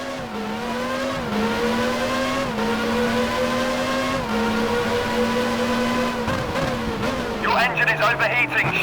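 Formula 1 car engine from the F1 Challenge racing game on a qualifying lap at the 1994 Monaco Grand Prix, a steady loud high-revving whine that shifts gears and drops pitch near the end, with a voice talking over it.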